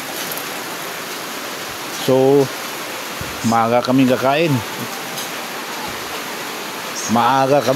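Steady rain falls over a flooded street, a continuous even hiss running beneath a few short bursts of nearby conversation.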